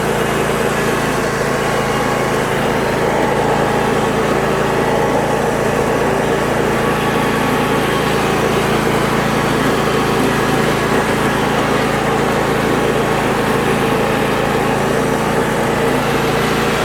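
Husqvarna and Craftsman riding lawn mowers drive with small engines droning loudly and steadily at close range, a constant buzzing hum without interruption.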